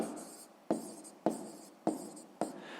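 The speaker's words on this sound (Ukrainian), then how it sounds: "Ну і пишемо так." Pen writing by hand on paper while working a sixth-grade maths exercise: quiet, close scratchy strokes in four short bursts, each starting with a sharp tap of the pen, with no talking.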